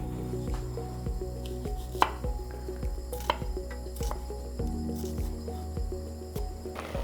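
Knife chopping shallots (pole onions) on a board during prep for a South Indian chayote and dal curry: a series of irregular, fairly close taps spread through the clip over a steady kitchen hum, with no talking.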